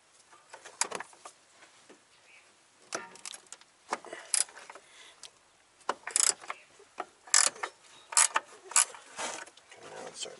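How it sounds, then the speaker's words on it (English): Ratchet wrench clicking while air suspension is installed on a 2011 Audi Avant, with irregular bursts of metallic ratcheting clicks and clinks between short pauses, close and fairly faint. "So here's my wrench or my ratchet."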